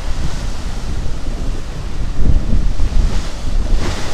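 Strong wind buffets a microphone by the sea, a loud, constant roar with gusts and low thumps, and surf in the background.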